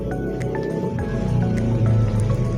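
Sauce for güisquil rellenos bubbles in a pot, heard as soft, close squishy pops and drips over a low simmering rumble, with no voices.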